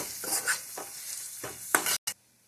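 A spatula stirs boiled potatoes frying in a pan with green chili paste and turmeric; several scraping strokes sound over a soft sizzle, close and clear, ending in a couple of quick clanks, with no talking.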